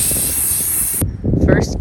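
Spray paint hisses steadily from an aerosol can onto a garden ornament, a loud continuous blast for about a second that then cuts off, followed by brief handling noises.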